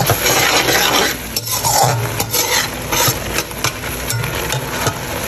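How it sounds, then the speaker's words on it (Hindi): A spoon stirs and scrapes green chillies and onions in a pan over high heat, a close, rasping, uneven scraping with a soft sizzle underneath and no talk. "अच्छी तरह से मिक्स कर लेंगे।"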